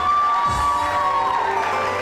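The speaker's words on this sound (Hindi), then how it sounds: "बहुत सारी तालियां इनके लिए।" A TV show audience cheers and shouts in a loud, continuous crowd roar that lasts the whole stretch, with a sustained musical tone running through it.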